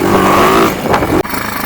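A Chinese pit bike engine with a newly fitted Nibbi PWK carburetor runs loud and close, steady for a moment, then shifts pitch and cuts sharply before resuming a rougher, idling putter.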